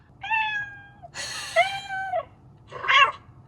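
Three cat meows in a row, played by the voice assistant of a 2020 Mercedes S-Class, clear and slightly electronic-sounding, separated by short pauses over a faint low hum.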